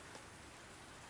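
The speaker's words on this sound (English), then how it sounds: "Why did it start raining in the middle of the night?" Rain falls at night in the video game Language of Flowers, a brief, dense, faint hiss that stays steady throughout.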